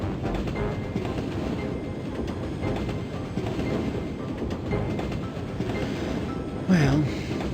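Steady rumble of a train ride in a Sherlock Holmes video game, continuous low rolling noise with faint rhythmic clatter throughout, rising briefly louder near the end.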